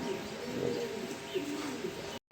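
A pair of pigeons, a white-toned male and a tiger-patterned female kept with their young, coo softly and repeatedly at close range, with low murmuring calls and faint background noise.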